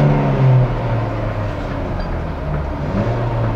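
A car engine revs steadily as a learner driver presses the accelerator while working the clutch, a loud, close drone with slight rises in pitch and no talking.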